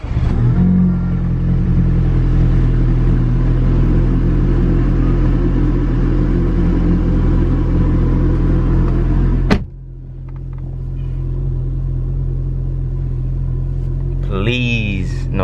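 Audi A4 B8.5 engine running on a test drive after a motor mount replacement, a steady low rumble that stops abruptly, then a quieter idle with brief tones over it.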